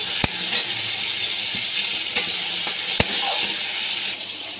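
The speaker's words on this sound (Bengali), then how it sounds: "চিংড়ি মাছ আমি ভেজে নিচ্ছি" Prawns coated in salt and turmeric fry in oil with a soft, steady hiss, broken by a few sharp clicks and pops.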